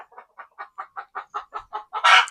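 Chickens cluck in a quick, even series of about a dozen short clucks, ending in a louder, harsher squawk, close by and with no talking.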